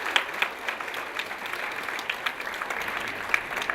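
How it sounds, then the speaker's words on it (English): Audience applause at an awards ceremony in New Delhi, a steady wash of many hands clapping, moderately distant and sustained throughout with a few sharper claps standing out. "A big applause for her."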